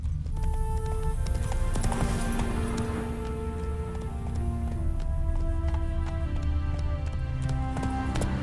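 Galloping hooves of the horse in The Witcher 3 video game, a steady rapid clip-clop rhythm running throughout, loud and close, layered with orchestral game music.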